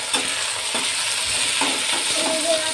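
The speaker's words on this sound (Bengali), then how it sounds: "টমেটো কুচানোগুলো দিয়ে দিচ্ছি।" Chopped tomatoes frying with onions in a pan, loud sizzling broken by repeated scraping stirs of a spatula, close and busy, with a faint squeak toward the end and no talking.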